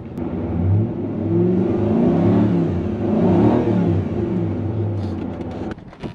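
A Toyota 3UZ V8 with a rebuilt VVTi ECU fires up and revs, a throaty, close engine note rising and swelling for several seconds before dropping off sharply at the end.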